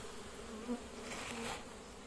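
A swarm of honeybees hums steadily and faintly near ground under cardboard, a soft continuous buzz with no voices.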